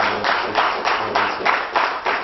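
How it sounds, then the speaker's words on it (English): Audience applause at a conference in Bangalore honouring Dr. Agarwal, a dense sustained wash of many hands clapping with rhythmic pulses, fairly loud and steady throughout, with no talking over it. "we need to give a big round of applause to Dr. Agarwal for making this happen"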